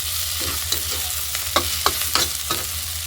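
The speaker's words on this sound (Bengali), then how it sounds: "এখানে পরিমাণ মতন এখন জল দিয়ে দিব।" Water goes into a pan of frying spices for a dry turnip and potato curry, bringing a bright, close sizzle broken by several sharp clicks and scrapes of stirring, with no voices.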